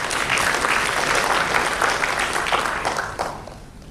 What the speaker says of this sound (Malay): Jadi kita beri tepukan pada Tuan Yaakob.